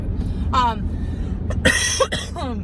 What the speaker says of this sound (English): my throat gets a little bit, and then I cough all over the place